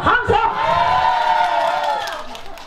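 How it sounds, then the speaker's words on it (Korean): One section of an outdoor folk festival crowd cheers and claps on cue for a street performer, a loud continuous wall of shouting voices after a brief opening of speech, fading gradually toward the end. "B 박수 함성"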